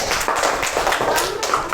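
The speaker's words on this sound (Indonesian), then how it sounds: "beri tepuk tangan buat kelompok 1" Classroom group clapping for a student group after a presentation, a short burst of brisk, uneven claps from several people close by, with some voices mixed in.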